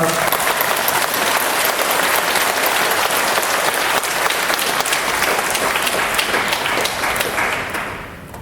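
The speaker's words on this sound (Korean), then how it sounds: "윤영호 본부장님, 또 우리 이기성 회장님, 또 물론 많은 지도자님들이 계시지만 그분들을 위해서 큰 감사의 박수를 부탁드립니다." A church congregation gives a dense, sustained round of applause, loud and continuous with many hands clapping at once, then tapering off at the very end.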